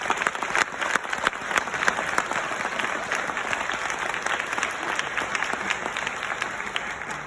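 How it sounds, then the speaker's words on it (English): Sustained applause from a commencement audience honoring graduates' family members, a dense, steady wash of many hands clapping that continues throughout at fairly loud level with a faint murmur of crowd noise. "a round of applause."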